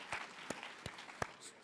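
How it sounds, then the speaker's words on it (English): A few scattered, faint hand claps from a small audience at a talk, four sharp claps spaced about a third of a second apart. "that deserves applause."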